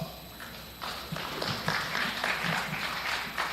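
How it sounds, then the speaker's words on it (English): A county fair crowd at a junior goat show claps for the young exhibitors after a class of does, a fairly faint, rhythmic patter of hands that picks up and continues steadily. "Let's give those kids a nice round of applause."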